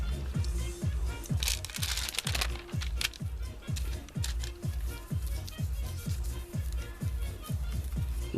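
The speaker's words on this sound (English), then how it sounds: "We love our tracing paper because we like the sound and the feel." Sheets of crinkly tracing paper being handled close by, sharp crackles and rustles alongside a steady series of low, rhythmic knocks, with light talking underneath.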